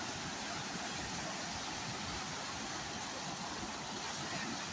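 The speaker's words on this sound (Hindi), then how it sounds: "पानी की आवाज़ कितनी खतरनाक आ रही है।" Rushing river water at a dangerous bathing spot near a bridge in a village, a steady broadband roar heard at fairly low level with no voices.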